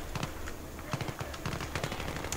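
Rapid bursts of automatic weapon fire crackle in the shooter game Battlefield 3, clustered volleys and single shots sounding from moderate distance in an uneven rhythm, with no one speaking over it.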